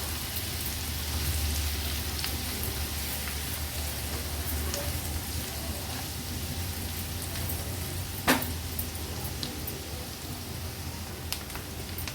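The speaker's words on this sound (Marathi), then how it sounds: "कांदा तेलावर छान शिजवून घ्यायचा आहे गॅसची फ्लेम अगदी लोवर करते लो फ्लेमवरच कांदा शिजवणार आहोत" Chopped onion cooks slowly in oil over a low gas flame, giving a soft, even sizzling hiss throughout with a few faint pops and one brief clatter, no talking.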